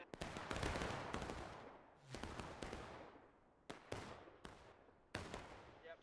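Musket fire in War of Rights during an East Woods skirmish: a ragged volley of many overlapping shots, then separate cracks, some near and some farther off, with echoing tails and no voices.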